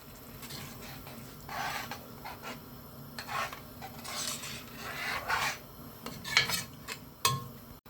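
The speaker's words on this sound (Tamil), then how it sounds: "இப்போ ஊற்றிக்கணும் வந்து புளியை இது கூட கிண்டி விட்டுக்கலாம்" Tamarind water poured into a pot of okra curry and stirred with a spoon, giving scraping, rasping strokes and soft splashes with occasional clinks against the metal pot, moderately quiet and close.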